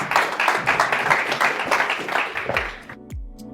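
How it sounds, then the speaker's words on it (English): An audience applauds as a moderator walks on stage at a hospitality industry panel, with loud, dense clapping that fades out toward the end, followed by a short musical tone. "He will come on stage, a round of applause"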